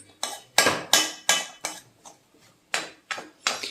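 A spoon chops and breaks up spinach rava upma in a pan, giving about ten sharp metallic clinks and scrapes in an uneven rhythm. Close and clear, with no talking.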